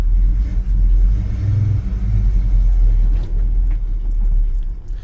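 A Chevy C10 farm truck engine idles steadily up close, a loud, continuous low rumble with slight rises in revs and no voices over it.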